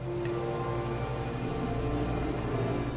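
Light rain from a video game weather mod patters steadily and evenly on surfaces, a continuous close hiss of drops with no voices.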